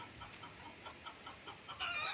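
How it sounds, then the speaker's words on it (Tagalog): Chickens cluck in a quick series of short, soft calls at a moderate distance, with a brief higher squawk near the end. "At sa ngayon may mga alagang manok"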